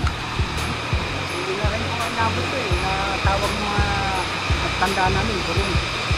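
A small waterfall on the Dumagat hiking trail roars in a steady, close wash of falling water, with people talking over it.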